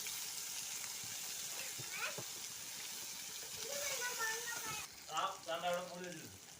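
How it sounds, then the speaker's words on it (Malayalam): Ivy gourd sautéing with green chili in a pan for pachadi, giving a soft continuous sizzle with light stirring scrapes, while a voice speaks over the cooking toward the end. "ഇനി നന്നായിട്ട് ഇളക്കി കൊടുക്കാം നന്നായിട്ട് വാടിയിട്ടുണ്ട്"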